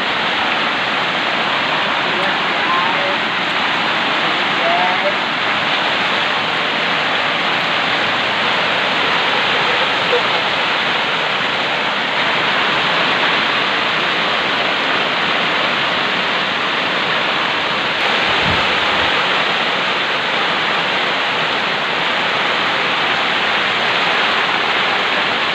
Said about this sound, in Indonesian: Di samping menunggu hujannya reda